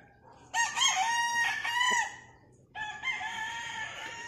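A Boston Roundhead white-legged gamefowl rooster crows twice, loud and near: one long cock-a-doodle-doo, a short pause, then a second crow that starts again, over faint background hum.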